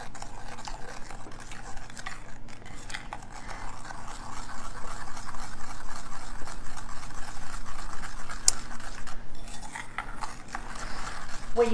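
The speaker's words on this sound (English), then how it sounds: "I just stir this until everything is combined" Green beans being stirred with butter and brown sugar in a pan, a continuous soft scraping and swishing of a spoon, close and steady, with a faint clink partway through.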